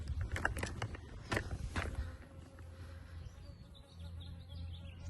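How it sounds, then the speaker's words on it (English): Bees buzz around Spanish lavender in a blooming March garden, with a soft steady hum close by. A few sharp rustles and clicks come early, and faint bird chirps sound in the background. "these bees"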